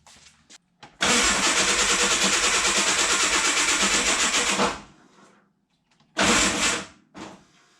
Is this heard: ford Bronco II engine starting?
yes